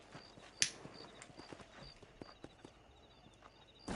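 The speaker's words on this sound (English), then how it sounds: "These are fine horses." Horse hooves clip-clop in a steady walking rhythm across open ground in the Red Dead Redemption video game, faint and fairly close, with a sharp clack near the start and a louder burst at the end.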